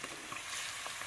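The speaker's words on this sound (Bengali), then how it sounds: "আমরা তেলের ভিতরে পেঁয়াজ দিয়ে নিলাম" Onions are frying in oil in a pan, making a brief, faint, steady hiss and sizzle with light crackles. The sizzle is heard alone, with no voices over it.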